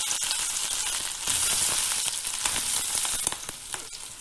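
Panch phoron seeds and potatoes frying in 1.5 tablespoons of hot oil, with a loud, dense, continuous sizzle and crackling pops up close, swelling briefly in the middle and easing slightly toward the end.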